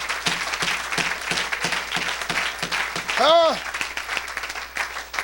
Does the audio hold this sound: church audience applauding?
yes